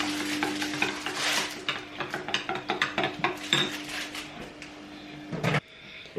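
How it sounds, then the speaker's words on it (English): A spoon stirs a yeast, milk and sugar mixture in a bowl, producing a quick run of scraping and clinking strokes, fairly close, that ends with a sharp knock. "about half the sugar, and then I'm just going to mix that and then leave it to do its thing"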